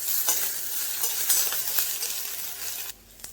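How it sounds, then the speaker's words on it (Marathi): Chopped onion sautés in a pan over a gas flame with a steady hiss and scattered stirring scrapes, then the sizzle drops away near the end, leaving quiet. "गॅसच्यात मोठी ठेवून कांदा व्यवस्थित परतून घ्यायचा।"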